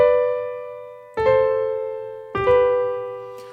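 Legato thirds played unevenly on a piano, three sustained two-note chords struck about a second apart, each decaying before the next, with slightly smeared, staggered attacks.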